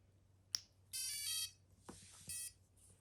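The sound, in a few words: quadcopter speed controller calibration beep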